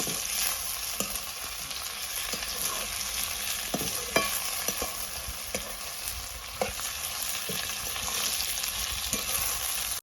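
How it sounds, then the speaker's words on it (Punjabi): Capsicum and onion frying in oil in a pan give a steady, close sizzle, broken by scattered sharp clicks of a spoon scraping and stirring, with no voices. "ਜਿੰਨੀ ਦੇਰ ਤੱਕ ਆਪਣੀ ਸਿਮਲਾ ਮਿਰਚ ਤੇ ਪਿਆਜ਼ ਭੁੱਜਦੇ ਨੇ"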